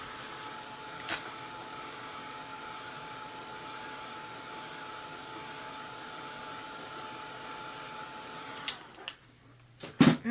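A hair dryer blows steadily and fairly loudly for several seconds while drying acrylic paint, followed by a few bumps and clatters near the end.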